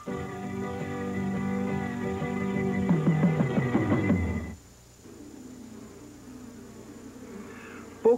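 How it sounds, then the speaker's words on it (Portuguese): A loud, steady buzzing hum of honeybees holds for several seconds, then cuts off, leaving a quieter low drone. "Poucas criaturas têm sido mais intensamente estudadas do que a abelha comum"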